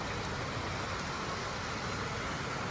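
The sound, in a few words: rain falling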